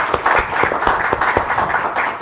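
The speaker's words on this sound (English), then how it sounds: "Thank you very much, and we give applause to Pak Juwono and Pak Darmono." Audience applause closing a business panel discussion on public-private partnership, loud close claps with distinct sharp individual hand strikes over a continuous patter, steady throughout with no talking.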